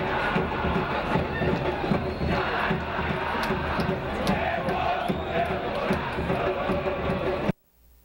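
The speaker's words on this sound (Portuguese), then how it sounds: "Da bola rolar, a festa da torcida alvinegra." Black-and-white-clad football supporters roar and chant at kickoff of a Democrata match, a dense, continuous stadium crowd that fills the air for about seven seconds before cutting off abruptly.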